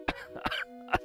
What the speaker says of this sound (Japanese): すいません、咳が止まらず。